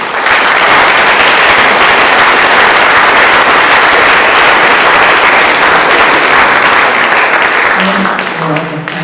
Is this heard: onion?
no